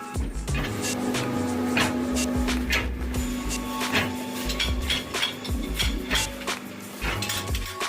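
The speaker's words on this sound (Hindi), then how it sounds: "यह स्टिचिंग मशीन है, यहीं से हम सीट को स्टेपल करेंगे" A stitching machine staples the flaps of a corrugated box in a packaging factory, giving repeated sharp metallic clacks in an irregular rhythm against a busy, clattering workshop background, with no talk.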